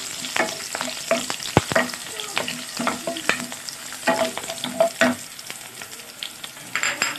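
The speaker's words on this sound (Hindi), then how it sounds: "इसके बाद हम इसमें ऐड करेंगे कड़ी पत्ता, तीन मिर्चों को हमने इस तरह से स्लिट कर लिया है" Curry leaves and slit green chillies fry in hot oil for a masala dosa filling, a steady close sizzle broken by sharp crackles, pops and a few spoon scrapes against the pan, with no voices.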